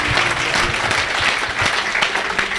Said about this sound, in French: Oh, acclamez pour Jésus.